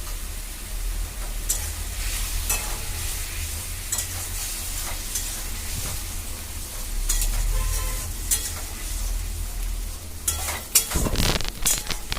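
A spice paste with turmeric, salt and chopped tomatoes fries in a pan for a rohu fish curry, a steady close sizzle with repeated scraping stirs of a spatula, busier toward the end.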